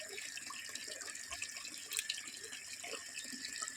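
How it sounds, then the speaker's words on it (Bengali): Water runs continuously from a tap into a bucket, a soft, steady splashing stream heard close but at low level throughout, with no voices. "ওই বালতিটা একটু খালি আছে ভর্তি করে নিই"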